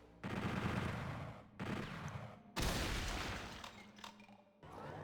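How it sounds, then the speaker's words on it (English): A chain gun fires in the video game Brutal Doom 64 in three sustained bursts of dense rapid gunfire, loud and close, split by short gaps, with booming impacts after the last burst. "The chain gun with the purple effect."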